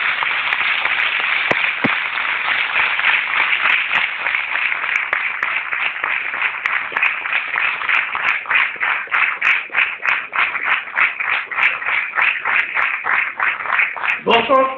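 A large audience claps loudly and steadily for about fifteen seconds, the claps settling into a fast, even rhythm in unison with a general crowd roar underneath.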